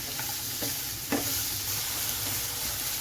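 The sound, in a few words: stir-frying sliced onion and carrot in a pan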